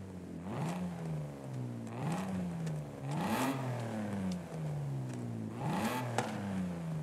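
A BMW E36 M3 engine in the Forza Horizon 5 racing game, revving repeatedly in rising sweeps that fall back between gear changes, faint and continuous with no talk.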